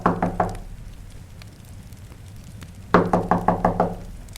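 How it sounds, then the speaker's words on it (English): A knock at a house door as a dramatic sound effect: a quick triple rap on wood, a pause, then a louder run of about six firm, close knocks. "A knock at the door interrupts their evening."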